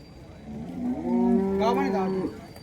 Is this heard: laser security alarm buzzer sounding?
no